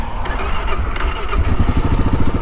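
A 2022 Kawasaki KLR 650 fuel-injected motorcycle cranks briefly, then fires up close by and settles into a loud, rapid, even thumping idle.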